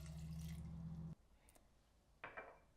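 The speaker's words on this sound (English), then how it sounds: "Now I'm going to add 75 grams of warm water." Warm water poured into a container of dried sourdough starter: a steady, close liquid pour lasting about a second, then quiet, followed by a brief splash or shuffle near the end.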